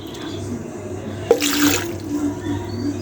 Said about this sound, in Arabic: كنديرهم في مولينكس، كنضيف ليهم الماء